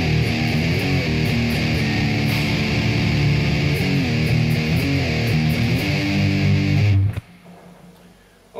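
Heavily distorted metal electric guitar plays a riff with chugging palm-muted chords, loud and continuous for about seven seconds before cutting off to near silence.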